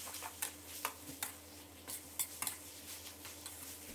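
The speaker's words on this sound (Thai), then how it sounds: "แล้วก็ให้เราผัดต่อนะครับจนมะเขือเทศของเราสุกนิ่มเลยนะครับ" Chopped tomatoes stir-fried in a pan for a Thai nam prik ong chili paste, with a spatula tapping and scraping the pan in light, irregular clinks over a faint steady sizzle, no voices.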